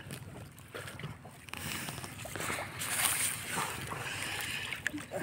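Choppy sea water sloshes and splashes against a small fishing boat in a steady, broadband wash with wind. People talk over it throughout.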